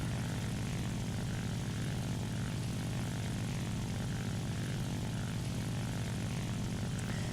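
Steady, droning propeller aircraft engine in a flight combat video game, a constant even hum with no voices.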